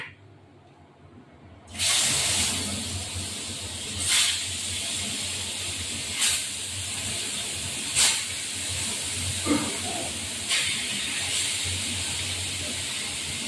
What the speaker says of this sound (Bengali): তেল গরম হয়ে গেছে, এবার মাছটা দিয়ে দিলাম।